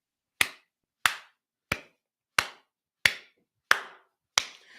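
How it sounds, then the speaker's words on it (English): Seven sharp, evenly spaced claps about two-thirds of a second apart, each crisp slap decaying quickly into silence, close and dry, with a faint trailing noise at the end. "This is multifunctional cheek clapping."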